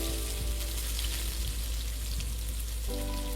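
Fennel seeds and curry leaves frying in coconut oil for a Kerala-style breadfruit curry, giving a steady, close, even sizzling hiss that runs unbroken throughout with no voices.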